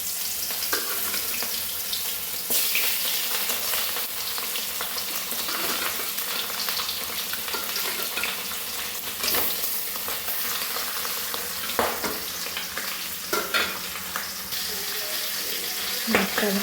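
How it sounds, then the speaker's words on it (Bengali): Pieces of rohu fish frying in hot oil in a wok, a continuous loud hissing sizzle with bubbling spatter and occasional louder crackling bursts, heard close and alone. "তেল গরম হয়ে গেছে অলরেডি, মাছটা ছেড়ে দেবো।"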